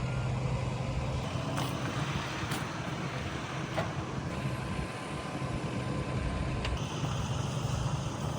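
A truck arriving at a residential construction site on a vacant lot, where concrete work is being set up, gives a steady, broadband engine rumble that holds evenly throughout, with no voices.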